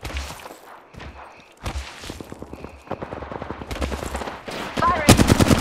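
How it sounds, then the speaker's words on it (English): Rapid gunfire in a shooter video game crackles in repeated bursts, growing denser and louder toward the end, with a player's shouting voice mixed in. "They're shooting at me!"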